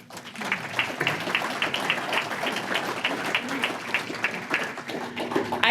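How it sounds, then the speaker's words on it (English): A panel-event audience applauds steadily and fairly loudly, a dense patter of many hands clapping that stays even for several seconds, with a low hum underneath. "let's give our panelists one more round of applause"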